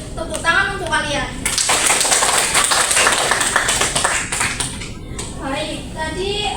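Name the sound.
students clapping for the class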